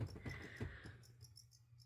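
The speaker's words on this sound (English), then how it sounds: "You hear the crickets going." Crickets chirp in short repeated pulses through a quiet night background, with a low thump or two early on.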